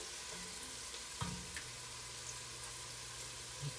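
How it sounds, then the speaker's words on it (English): Garlic and other ingredients for black-eyed pea soup sauté in an enamel cast-iron pan, a soft, steady sizzle with a few faint clicks of stirring, quiet and close. "all I'm doing right now is I'm sauteing that together"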